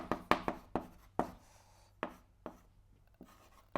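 Marker strokes on a board during a calculus lesson, a series of sharp close taps and short squeaky scrapes in uneven rhythm, heard alone.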